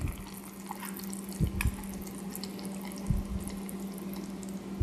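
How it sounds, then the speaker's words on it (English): Teriyaki sauce pours and trickles steadily through a strainer, with a few soft splashes and thumps, set against a constant low hum. "So just get any strainer and just go ahead and pour it."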